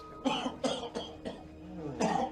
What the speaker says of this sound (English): Starts with a cough.